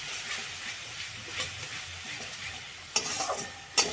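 Spices for an egg curry fry softly in a pan, a faint steady sizzle with a few louder stirring scrapes near the end.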